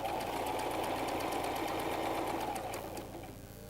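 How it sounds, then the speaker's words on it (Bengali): A sewing machine stitches the corner of a salwar with a fast, continuous whirring chatter, then slows and quiets near the end as it backstitches to lock the seam. "একদম কর্নার দিয়ে আমরা আর সেলাইটা করে একটু নেব। ব্যাকে যাব লক করার জন্য।"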